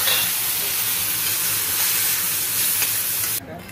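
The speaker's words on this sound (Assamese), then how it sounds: "এবাৰ তেলত মাছখিনি ফ্ৰাই কৰি ল'ব লাগিব" Fish frying in hot oil during home cooking, a loud, steady close-up sizzle that holds for several seconds before cutting off abruptly near the end.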